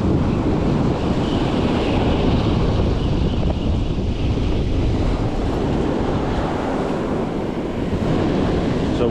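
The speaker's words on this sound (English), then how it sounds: "So the wind's really come up now" Strong wind and surf at the shoreline while fishing in Isipingo: a loud, continuous roar of waves and gusting wind buffeting the microphone throughout, with no voices.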